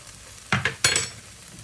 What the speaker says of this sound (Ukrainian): наша дожарочка вже дожарюється